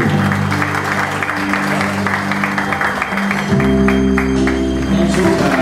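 At a parish pageant cocktail event, an audience applauds to welcome a pageant representative. The clapping is continuous and moderately loud over steady background music.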